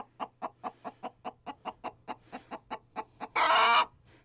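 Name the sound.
upset broody hen clucking in chicken coop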